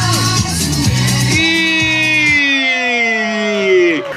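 Crowd at a limbo competition in Mexico yelling and whooping in encouragement, loud and close, with long, drawn-out sustained shouts rising and sliding in pitch over a few seconds.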